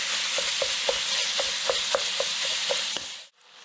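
Minced meat browns in a hot pan with a steady sizzle, broken by regular stirring scrapes about every third of a second, before the sound cuts off abruptly near the end.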